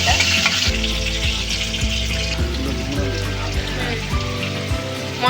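Chicken and spice masala sizzle and crackle in hot oil as they are sautéed and stirred, a loud, continuous frying hiss close up.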